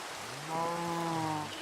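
Steady rain falls in the video game Minecraft as a soft, even wash, with a brief tonal, animal-like call rising over it midway.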